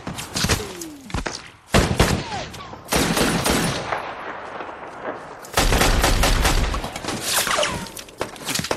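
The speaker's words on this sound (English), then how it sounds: "When the gun battle does break out" Gunfire from a film battle scene in Lone Survivor: loud bursts of rifle and automatic fire, rapid volleys separated by brief pauses, with shattering impacts and echoing cracks, heavy and intense throughout, no speech.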